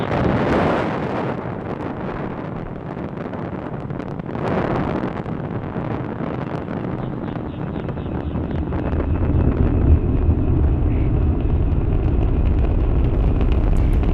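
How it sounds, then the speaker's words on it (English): A SpaceX Falcon 9 rocket lifting off from Launch Complex 39A carrying Starlink satellites, its engines a deep, rumbling roar that swells and holds steady, heard from a distance with wind buffeting the microphone. "Falcon 9 has successfully lifted off from Launch Complex 39A"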